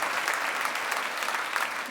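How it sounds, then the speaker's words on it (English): A packed audience claps steadily at the SEED20 OnStage 2018 celebration of changemakers, a dense, even wash of applause with no talking over it. "So give yourselves a round of applause for packing it out"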